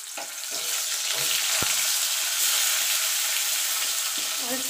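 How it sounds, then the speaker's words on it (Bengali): Cauliflower and potato pieces fry together in oil left over from frying fish, with a loud, steady sizzle and bubbling. Occasional low knocks and clatter come from stirring in the pan, and no voices are heard. "এই তেলে আমি ফুলকপি আলুটা ভেজে নেব"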